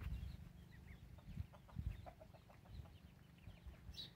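Chickens cluck in short, soft, scattered bursts on a farm where ducks and chickens are raised, moderately distant over a low, rustling background, with a brief sharper call near the end.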